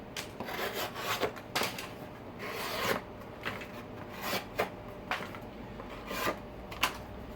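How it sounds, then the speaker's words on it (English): Spyderco Endura 4 folding knife blade slicing through solid cardboard, a run of dry rasping cuts with sharp scraping bursts about once a second, close up and with no talk. "The grind and the blade length lend very well to slicing cardboard."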